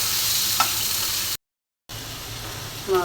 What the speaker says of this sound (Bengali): এদিকে মাছটা ভেজে নিচ্ছি